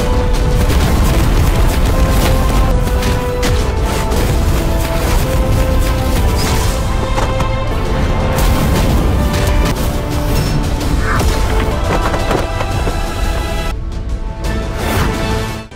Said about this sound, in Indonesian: teknik Putri Xiao ini dengan mudah langsung meledakkan kedua orang tadi